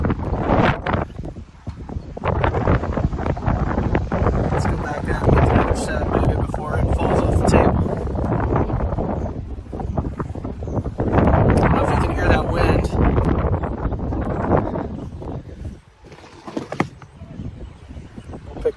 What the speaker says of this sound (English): This wind is really whipping in there with my onions.